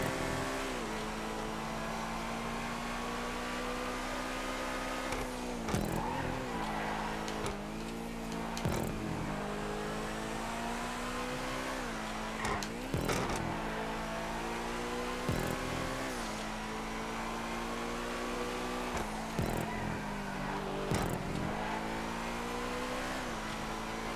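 Race cars roar around a fast, flowing circuit in GTA Online at Fort Zancudo, engines droning loud and steady throughout, with repeated sharp bursts of revving and gear changes as they speed along.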